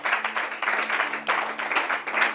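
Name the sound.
church congregation applauding and acclaiming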